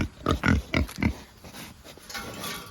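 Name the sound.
pigs grunting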